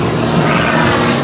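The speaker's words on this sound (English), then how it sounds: "Don't take your eyes off this airplane." An MX2 aerobatic airplane performs at the 2022 Joint Base Andrews airshow, its propeller engine producing a loud, steady, broadband roar that fills the moment without pause.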